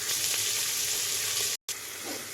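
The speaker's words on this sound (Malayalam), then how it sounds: "ഉപ്പും കൂടി ചേർത്തിട്ട് നല്ലപോലെ ഇളക്കി കൊടുക്കാം" Onions with salt sauté and get stirred in a pan for a beef dish, giving a steady close sizzle with faint spoon scraping. A brief dropout of silence interrupts it near the end.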